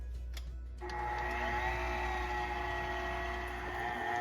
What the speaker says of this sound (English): we're just gonna mix this, and we're gonna let it knead for about 7 or 8 minutes